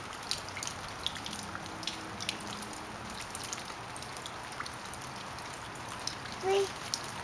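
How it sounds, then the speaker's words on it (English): Water dripping from melting snow, a steady scatter of small drips and patters like light rain, fairly faint and continuous, with a brief brighter drop near the end and a voice faintly present. "Pretty neat, huh? You like it when it drips?"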